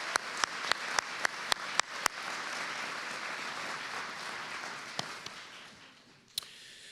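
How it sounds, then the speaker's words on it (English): An audience at a Fort Collins Police Services awards ceremony applauds the honor guard, beginning with a handful of distinct sharp claps that swell into a broad wash of crowd applause, then fade with a few stray claps, set back in a large hall. "Can we do one more round of applause for our honor guard and Officer Click and Klein?"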